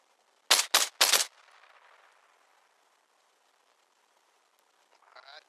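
Three loud, close gunshots in quick succession in the military game Arma Reforger, followed by a fading echoing tail and near silence.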